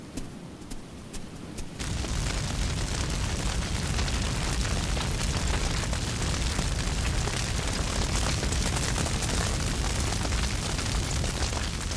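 Bushfire deliberately lit by Aboriginal hunters roars as a dense, steady crackling rumble, starting quieter and surging loud after about two seconds, with no voices.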